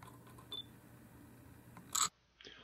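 A Nikon Coolpix P610 shutter release pressed firmly, heard as a short, crisp mechanical click burst near the end, preceded by faint handling noise in a quiet room.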